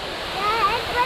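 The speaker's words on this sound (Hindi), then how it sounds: "ठंडा ठंडा पानी ऊपर से गिर रहा है आके" Khorfakkan waterfall near Dubai pouring down with cold spray splashing, a steady close rush of water with people talking over it.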